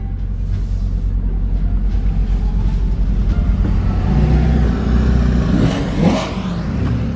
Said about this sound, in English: Grabe yung exhaust niya. Kasi naka-downpipe nga siya eh. Grabe yung ingay